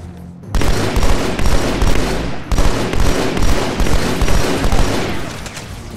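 Battle rifle gunfire in Halo: Master Chief Collection hits loud and close, with rapid bursts of rattling shots starting abruptly after a brief quiet lead-in and repeating in steady volleys.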